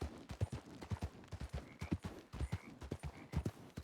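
Horse hooves clip-clop in a steady, repeated trot in Red Dead Redemption 2, with a faint whinny partway through; the sound is moderately quiet and carries no talk over it.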